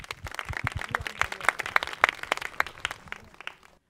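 Audience applause at a semi-final challenge show: a loose scatter of crisp hand claps that builds briefly, then thins out and fades to silence.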